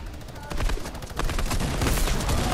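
Gunfire in the video game Fortnite, bursts of rapid shots that start after a quiet moment and then continue as a dense, loud volley, with people talking alongside.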